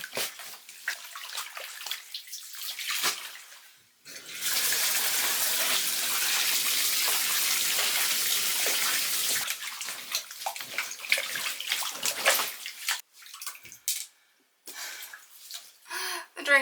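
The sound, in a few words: washing soaking-wet clothes by hand in a bathtub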